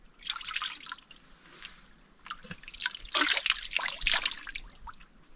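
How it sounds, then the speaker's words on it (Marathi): Water from a large spring trickling and splashing in bursts, rising and falling, close by like a small stream running over stones. "इकडे मोठा झरा आहे तिकडून आला आहे"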